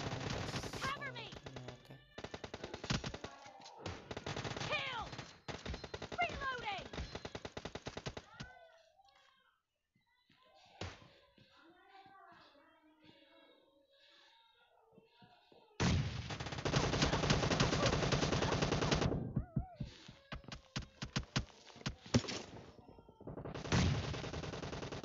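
Gunfire in a PUBG Lite team deathmatch in a warehouse, with dense bursts of rapid automatic shots, a quieter lull with scattered effects in the middle, then heavy sustained firing again, and a voice talking at moments.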